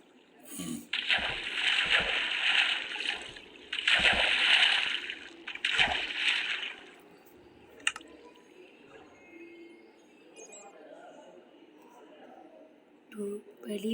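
A character in a survival video game splashes through water. Three heavy bursts of splashing and sloshing come in quick succession, followed by quieter drips and scattered small sounds.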